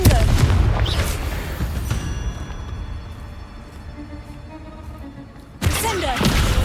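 A Confringo spell blast in Hogwarts Legacy, fought against a giant spider, lands as a loud burst up front and then trails off into a long rumbling tail. It cuts out briefly before a second loud burst at the end, with a voice calling out over it.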